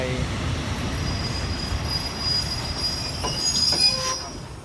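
A Thai commuter train, number 351 from Thonburi to Ratchaburi, rolls into a station in the dark with a steady low rumble while its wheels squeal in thin, high, sustained tones that swell near the end.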